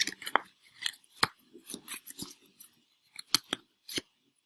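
Sharp papery snaps and riffling bursts come in quick irregular clusters, like a deck of cards being shuffled close by.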